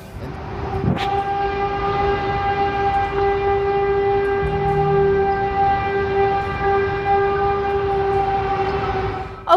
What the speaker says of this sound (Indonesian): Jadi bunyinya seperti trompet gitu guys.